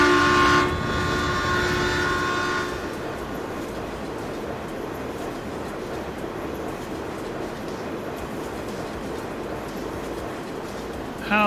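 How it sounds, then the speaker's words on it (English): A very loud train roars past in a farming video game set in Nebraska, its horn blaring over a dense rumble at the start before the steady clatter continues to the end, with brief talk in the background. "I warn you, the train is insanely loud."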